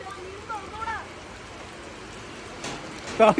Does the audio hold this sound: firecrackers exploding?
no